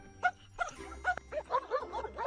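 A dog barks and yips in a short burst of several high, tonal calls, fairly close and moderately loud, with a low hum underneath.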